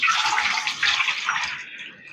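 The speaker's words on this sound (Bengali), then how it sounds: "জলের মধ্যে খানিকটা লবণ মিশিয়ে নিচ্ছি" Salt is stirred into water for a raw green mango pickle, making a soft, continuous hissing swish of moving water that fades slightly at the end.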